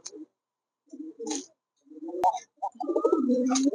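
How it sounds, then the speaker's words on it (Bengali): Chandan pigeons cooing in short soft bursts with quiet gaps between them, ending in a longer, fuller run of close, throaty coos. "দুটি কালারই সেম কালার অনেক সুন্দর কবুতর"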